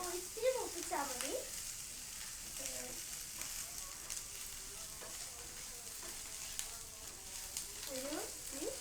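Chilli and spices frying in a pan give a soft, continuous sizzle with occasional stirring scrapes, fairly quiet, while a voice speaks over it now and then.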